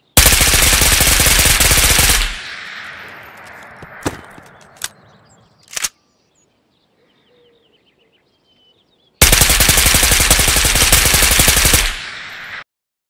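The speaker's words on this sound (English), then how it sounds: "Next up, we have the FSG grip. Firing fully automatic." Fully automatic gunfire from a rifle fitted with an FSG grip in Ghost of Tabor: two long, loud, sustained bursts, separated by a quiet stretch with a few isolated shots and fading echo.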